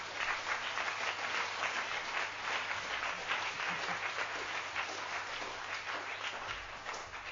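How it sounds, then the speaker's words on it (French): An audience at a festive musical improvisation event claps for several seconds, a continuous, fairly distant wash of applause with little variation. "Je crois qu'on peut les applaudir très fort aussi."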